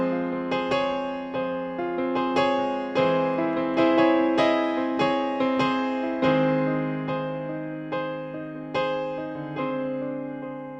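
Solo piano plays a live outro variation of a song, a busier left hand under repeated chiming chords, each struck note decaying evenly, steady and close, with no voices.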